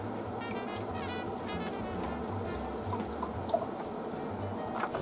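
Milk poured into a bowl holding two eggs, a steady liquid splash and drip lasting the whole moment, close and moderately loud with no talking over it.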